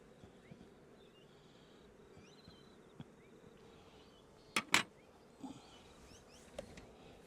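Honey bees on a brood frame in an opened hive give a faint, steady hum with occasional closer buzzing passes and a couple of sharp clicks.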